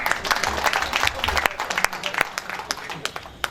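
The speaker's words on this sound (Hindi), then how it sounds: "ताली बजाइए" Audience at a Hindi comedy poetry event clapping together, a dense wash of applause that thins into scattered individual claps.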